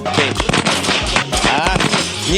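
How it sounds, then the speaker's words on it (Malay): Chinese firecrackers exploding in a rapid, loud crackling string of sharp bangs, dense and close, with a faint voice in the background. "Ni yang mercun Cina."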